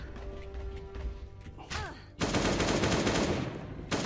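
Winchester shotgun blasts in Last Day on Earth, with a loud burst of heavy gunfire after a quieter lead-in, ending with another sharp shot.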